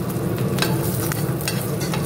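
Dried chillies and cumin seeds crackling in hot oil as a tempering for momo soup, a dense close sizzle with a few sharp spatters and soft stirring throughout.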